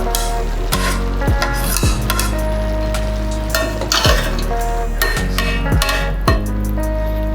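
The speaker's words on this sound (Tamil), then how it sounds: "இப்போ நம்ம கட் பண்ணி வச்ச பீசஸ் அப்படியே இதில் சேர்த்துறோம்." Cut egg dhokla pieces tipped into a sizzling pan and stirred, a steady close frying hiss under repeated loud scrapes and knocks of the spoon against the pan at a regular pace.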